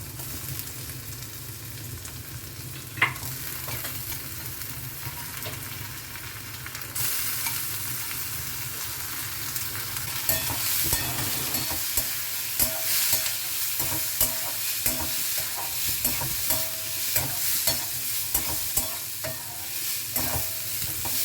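Washed masoor dal and onions frying in a pan, with a steady close sizzle that brightens partway through and rhythmic scraping strokes of stirring repeating over it.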